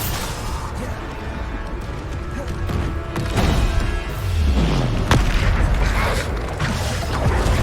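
A Bombarda blast spell going off in the Hogwarts Legacy video game, with deep booming impacts and rumbling debris amid continuous combat effects and mechanical creaks, a bit more than seven seconds of layered game noise.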